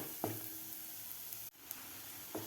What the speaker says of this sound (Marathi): सुगंध येईपर्यंत आपल्याला ह्या कांद्यामध्ये भाजून घ्यायचं आहे बेसन पीठ